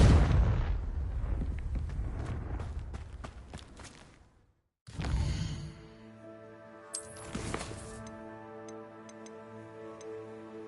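Confringo fire spell blasts in the Hogwarts Legacy video game: a loud opening burst fades to a brief silence, then a second sharp explosion follows with ringing magical tones trailing off.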